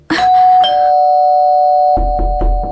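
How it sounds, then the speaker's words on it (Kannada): A doorbell at a home's front door rings a bright electronic chime with a long sustained tone, followed by a few sharp knocks near the end. "ಅಪ್ಪ, ಬೆಲ್ ಮಾಡು."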